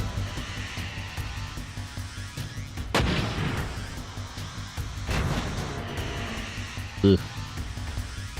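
Grenade blasts in the mech combat game Front Mission 4, with two heavy booming explosions a couple of seconds apart over steady game noise and a short thud near the end.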